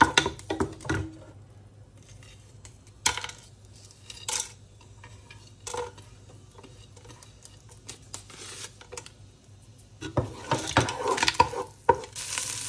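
Spices sizzle in hot ghee butter for lamb mandi, a soft frying hiss broken by intermittent clinks and stirring scrapes of a utensil against the pan, closer and busier toward the end.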